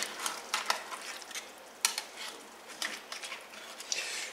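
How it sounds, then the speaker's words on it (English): Meat and flour bits stirred and scraped across the bottom of a pan while braising cube steak, producing irregular scraping and clinking strokes over a soft sizzle, close and fairly quiet, with no talking. "to stir up the bits of meat and flour that have stuck to the bottom of the pan."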